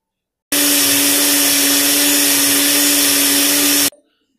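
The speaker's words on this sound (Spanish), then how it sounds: "para que no escuche ese sonido tan fuerte de la licuadora" A kitchen blender whirs loud and steady while blending juice, starting abruptly, running at a constant pitch for about three seconds, then cutting off sharply.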